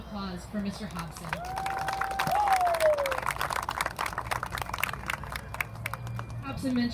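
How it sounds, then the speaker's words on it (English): An outdoor crowd at a Garfield Park Little League baseball ceremony honoring James Hobson claps in scattered, sustained applause, with a rising whistle and murmuring voices mixed in. "How about another round of applause for Mr. Hobson?"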